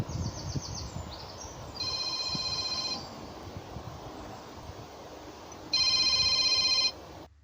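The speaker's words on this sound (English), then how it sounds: "Well, I've just got off the phone to Oz, who called me back" A phone rings aboard a narrowboat moored on a canal, two bursts of electronic ringtone, the second louder, with outdoor wind and water noise between them.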